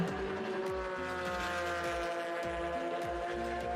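A McLaren race car engine at a motorsport event, a high buzzing roar with rapid gear-shift pitch steps repeating over a few seconds, fairly distant and steady.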